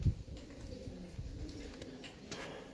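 A pigeon cooing inside a stone castle, soft low repeated coos close by, with quiet room ambience and no talking.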